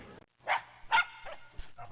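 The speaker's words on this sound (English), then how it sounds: "Oh my god, that dog never shuts up." A dog barks behind an apartment wall in the video game The Journeyman Project Turbo, giving two or three sharp, muffled barks close together with brief gaps between.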